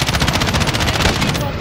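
Rapid automatic gunfire in Modern Warfare Ground War, a loud, dense, continuous burst of shots at a target, close and unbroken.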